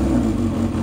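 A Yamaha XJR400 motorcycle engine, started on its electric starter, runs with a loud, steady, close-up hum throughout.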